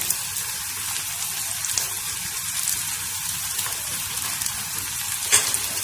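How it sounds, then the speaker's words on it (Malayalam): Shallots with a little salt sauté in a pan, giving a steady, close hiss and sizzle with occasional soft scrapes and one sharper clink near the end, with no voices. "നമുക്ക് നന്നായിട്ട് വഴറ്റിയെടുക്കാം"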